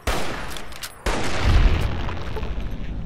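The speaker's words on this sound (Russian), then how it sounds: "Снайперский выстрел просто." A sharp, loud sniper rifle shot cracks in the video game Fallout: New Vegas, followed by a booming low rumble and a second heavy blast that rolls on with echoing reverberation.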